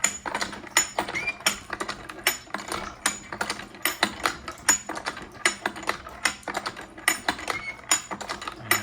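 An apple cider press cranked back and forth, its ratchet tightening down in a close, rapid string of sharp mechanical clicks and clacks with a steady, uneven rhythm.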